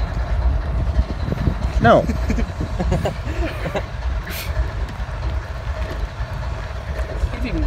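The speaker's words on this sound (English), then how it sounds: "there's another train going by too" A train rolls by in a steady, heavy rumble with faint rail clatter and a brief squeal, while people talk over it.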